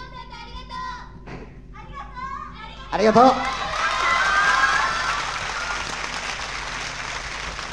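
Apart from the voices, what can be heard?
audience clapping for an encore at a concert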